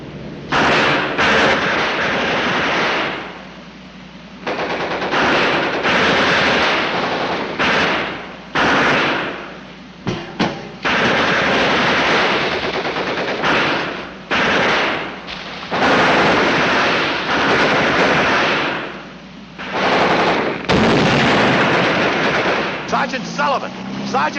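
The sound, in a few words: gunfire in battle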